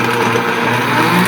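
A Vitamix blender whirs at high speed, loud and steady, while cleaning itself with soap and lemon, with a constant motor drone throughout.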